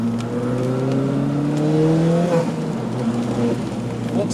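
Modified Ford Fiesta on PS4 tyres drives steadily with a constant engine drone and rising gear whine heard from inside the cabin, road noise underneath, with people talking quietly at times.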